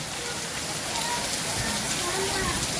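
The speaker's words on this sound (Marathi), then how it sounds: "पाऊस चालू आहे पूर्ण पाणी पाणी झालं" Heavy rain pouring down in a dense, constant hiss, close and loud throughout with no letup.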